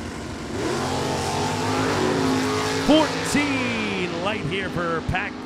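Drag racing cars, including a 1967 Camaro in the Super Stock F automatic class, roar with loud, sustained engine drone and rising revs at an NHRA event, while an announcer talks over the noise.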